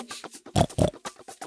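A cartoon pig in a Tagalog gingerbread man fairy tale, heard as a run of short snorting grunts, with two louder, fuller oinks in the middle, close and clear with no talking.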